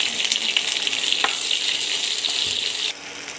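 Onions frying in oil in a pan for a red sauce pasta, a loud, continuous, close sizzle with faint stirring clicks that drops in level just before the end.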